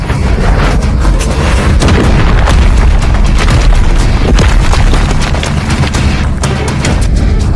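A fighting ring bursts apart in an anime battle with a continuous barrage of loud booms and crashing impacts, dense and unrelenting for several seconds.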